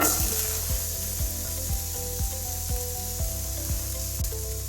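Onions sautéing in a pot over low heat for shrimp fried rice, a soft continuous sizzle with regular light knocks and scrapes of a utensil against the pot, close up with no voices.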